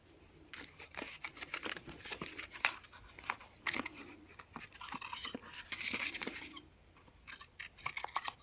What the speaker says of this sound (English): I have just cut a rectangular piece, folded it in half and rounded the corners